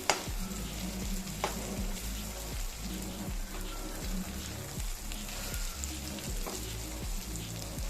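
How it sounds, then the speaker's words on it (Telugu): Stuffed brinjal curry fries on a low flame in a home kitchen, a soft continuous sizzle with small crackles and occasional stirring scrapes, close and steady with no talking. "సిమ్లోనే ఫ్రై చేసుకోండి, కూర మాడనివ్వకండి."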